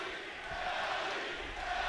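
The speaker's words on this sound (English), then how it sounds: "Crowd starting to come to life now" Esports arena crowd at a CS:GO final between FaZe and Ninjas in Pyjamas at IEM Oakland 2017, a steady, diffuse roar of many voices heard from a distance at moderate level.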